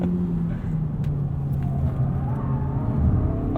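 A 2020 Honda Civic Si's engine drones steadily at half to three-quarter throttle on a winding mountain road, a close, continuous low rumble with gently shifting pitch and no talk over it.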